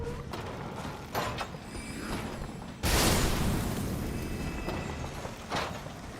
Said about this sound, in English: Oh, now look at this with the spread crossbow.